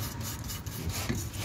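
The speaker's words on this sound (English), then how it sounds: "wire brush this off, just a little bit around the bolts" A wire brush scrubs rust off the underside of a Rover 45 around the bolts, giving a steady, close, coarse rasping with no talk.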